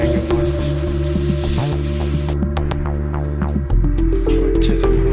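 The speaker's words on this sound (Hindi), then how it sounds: "इसको अच्छे से भून लेंगे" Cashew, onion and tomato paste frying in a pan, a loud continuous sizzle over a strong electrical hum and throbbing, with scattered stirring ticks.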